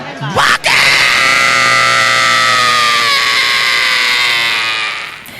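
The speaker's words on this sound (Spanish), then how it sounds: "Yo quiero un grito de esos de los heavies" A man lets out a long, sustained heavy-metal-style scream, loud and close, strained and raspy, holding steady for several seconds before fading slightly.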